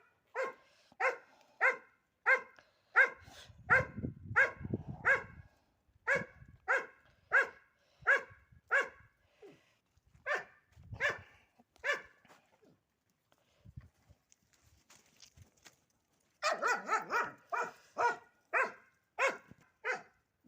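A dog barks in a long, steady run of sharp, evenly spaced barks, pauses briefly, then resumes with a quicker, louder burst of barking.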